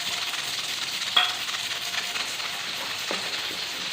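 Bay leaf, cinnamon, whole dried chillies, cloves and small cardamom crackle and sizzle in hot oil for a steady frying hiss, with a few sharper pops standing out.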